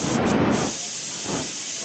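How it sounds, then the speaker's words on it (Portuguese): A kitchen pressure cooker vents steam with a loud, steady broadband hiss that surges at first, eases, then swells again briefly, with no voices over it. "Acho que é a panela de pressão aqui, hein?"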